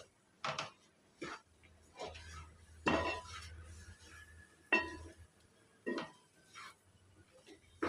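Grated coconut filling being stirred with cardamom powder for Telugu kobbari burelu, heard as intermittent spoon and vessel clinks and scrapes, close and moderately loud, with quiet pauses between strokes.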